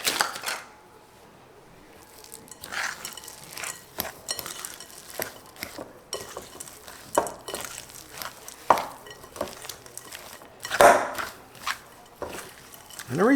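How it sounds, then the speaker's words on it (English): Keto Hawaiian cowboy cookie dough with macadamia nuts being stirred in a mixing bowl, soft scraping and clacking of the spoon against the bowl in irregular bursts, close and fairly quiet. "we're going to mix that all up."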